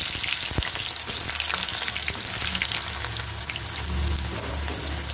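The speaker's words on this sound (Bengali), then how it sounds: "তেলটা গরম হয়ে গেছে, আমি আলুগুলো ছেড়ে দেবো।" Potatoes fry in hot oil, a close, continuous bubbling sizzle with scattered crackles and occasional low knocks from the pan.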